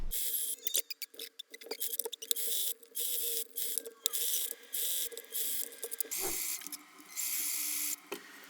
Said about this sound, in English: Now we're gonna sew it shut and then trim the excess.